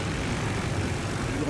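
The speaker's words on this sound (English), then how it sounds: "Throw our planes in the air just because." Carrier aircraft launching in the World of Warships video game, a continuous propeller-engine drone with broad roaring noise, steady and fairly loud throughout.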